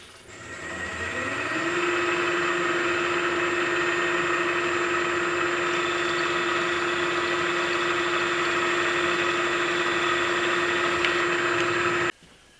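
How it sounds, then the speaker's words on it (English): A lathe bores out a hole in a metal part for a bushing, a steady loud mechanical hum and whine that ramps up over the first two seconds, holds constant, then cuts off near the end. "I need to enlarge this hole part way through. And I'm just going to bore it."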